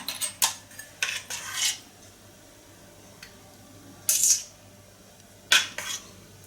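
A spoon clinks against bowl and molds while scooping pandan coconut pudding batter, several short metallic taps in uneven bursts with quiet gaps between, close and fairly crisp.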